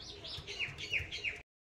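Kalanka, Chotiyal and Jiriya pigeons kept at home call in a short run of four or five quick, close, rising chirps and soft coos.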